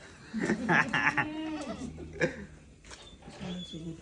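Several goats bleat in short wavering cries at close range, with farm voices and movement mixed in around them.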